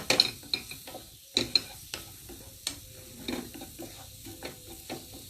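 A utensil stirs spices with sweet paprika in a frying pan, giving repeated scraping clatters over a steady soft sizzle, close up and with no talking.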